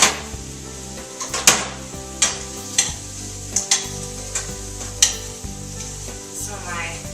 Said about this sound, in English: the seitan's almost done